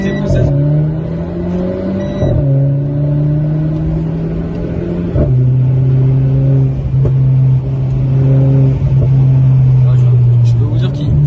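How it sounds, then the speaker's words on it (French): A Renault Clio 4 RS sports car's engine revs in sustained harmonic drones, dropping in pitch at each gear change, with crackling exhaust pops at the shifts; loud and close. "ça fait que pétarader à chaque passage de rapport."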